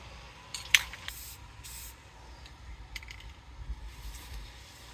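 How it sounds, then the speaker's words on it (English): Short, soft hisses of a Rust-Oleum clear gloss acrylic spray can coating a handmade slingshot, several quick bursts at low volume with faint handling clicks between them. "now I'm gonna hit it with 2 coats of clear gloss acrylic Rust-Oleum"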